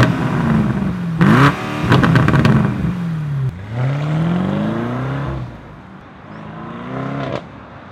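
A BMW M850i driven in comfort mode: the engine rises and falls through several revving surges with gear-change dips, close and steady, with no talk over it.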